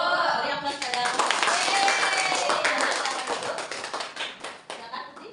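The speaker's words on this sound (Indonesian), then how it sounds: "Beri aplaus pada kelompok." Students in a classroom applaud a group after a math exercise, a steady patter of many hands clapping at moderate loudness that thins out toward the end, with some voices underneath.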